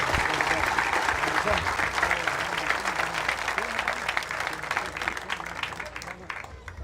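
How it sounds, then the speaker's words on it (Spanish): Audience applause for a musician at a church gathering, a steady dense wash of many hands clapping that holds loud throughout, with voices murmuring underneath. "Un aplauso fuerte para este hermano"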